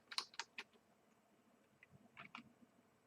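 Clicky typing on a computer keyboard while playing an old MS-DOS game, a few quick keystrokes near the start and another small cluster later, quiet and close, with no talking.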